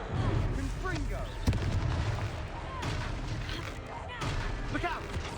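A Confringo spell explosion in the Hogwarts Legacy video game: booming blasts and bursts amid noisy combat, with voices calling out.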